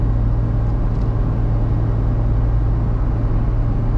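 A small car with a 1.4 litre engine, its spare wheel removed, climbs a steep hill, holding speed without extra throttle. It gives a loud, steady low engine drone and road rumble that stays even throughout, with no voices.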